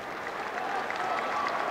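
Steady, dense crowd applause at a British short track speed skating race, a continuous wash of clapping at moderate volume with no voices standing out.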